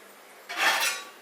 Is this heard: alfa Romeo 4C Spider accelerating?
no